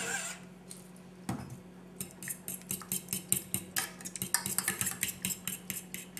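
A cook cleanly opens eggs in a kitchen, with a run of sharp taps and light clinks of shell and utensil against a dish, brisk and close with no talk.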